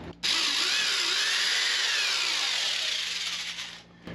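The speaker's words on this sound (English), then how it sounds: "We're drilling more holes" A power drill bores steadily into an RV wall up close, a loud continuous high whine lasting about four seconds before cutting off.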